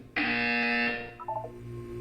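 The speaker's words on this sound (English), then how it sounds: "You will hear a buzzer." A buzzer from Portal 2 sounds once, a loud flat electronic tone lasting about a second before it cuts off and a short synthesized blip follows.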